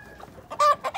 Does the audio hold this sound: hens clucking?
yes